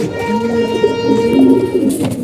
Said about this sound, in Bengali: জোড়াটা সবার আগে ডিম দিছে, মাকড়া মুসালদম কবুতর গুলা।